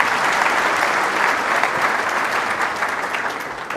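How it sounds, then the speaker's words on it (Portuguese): An audience applauds to welcome a professor as speaker, a dense, loud, continuous wash of clapping that holds steady for several seconds before easing slightly. "Uma salva de palmas"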